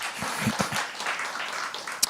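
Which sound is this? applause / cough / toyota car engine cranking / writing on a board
applause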